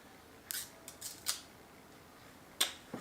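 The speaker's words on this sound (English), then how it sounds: "Let's take off the plastic." Plastic protective wrap is pulled and peeled off a small Laxihub security camera in a few short crinkly rustling bursts with quiet gaps between them, close to the listener, with no talking.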